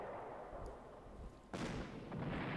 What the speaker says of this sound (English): We are starting off with artillery bombardment as always.